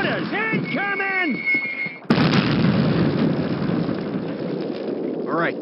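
Mortar barrage in the Call of Duty Sainte-Mère-Église mission, a sudden loud blast followed by sustained roaring, crackling rumble, preceded by shouting voices and whistling incoming shells.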